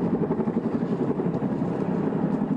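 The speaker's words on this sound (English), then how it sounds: "I have a hard time hearing you, Chuck, just because of the helicopter." A news helicopter hovers over a wildfire near a freeway, its rotor drone loud and continuous with a steady low pulsing beat and no voices.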